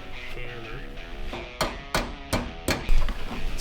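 Hammer blows in a car shop during custom work on a ratrod, five sharp strikes at a steady rhythm, close and loud over a background of shop noise and low voices.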